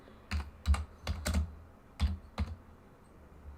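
Keys clack on a computer keyboard in short bursts, several quick taps grouped together with brief pauses, close and fairly crisp.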